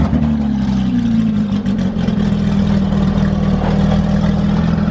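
A 2015 Porsche 911 GT3 engine holds a loud, steady high-revving roar with a strong low drone, close and continuous for the whole stretch with no talk.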